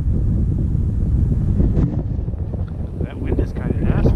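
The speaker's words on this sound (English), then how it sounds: "That wind is kind of nasty." Strong wind gusting across open lake ice during late-season crappie ice fishing, a steady low roar buffeting the microphone throughout, close and loud with no pauses.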